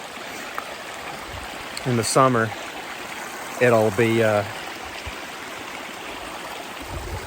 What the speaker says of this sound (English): You could tell it rained last night, so all the water is running really beautifully.